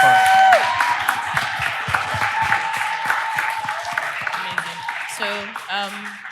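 Audience clapping for the speakers at the close of a roundtable panel, moderate and somewhat thin, with a brief tone and some voices mixed in under the applause.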